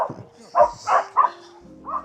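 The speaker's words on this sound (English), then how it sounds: "I was distracted by the dogs" Several dogs bark in short, loud, close bursts, three or four sharp yips and woofs in an uneven rhythm, with a faint electronic game tone humming underneath.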